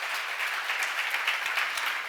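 An audience at a church seminar claps together in sustained, dense applause, a steady wash of many hands throughout, with no talking over it.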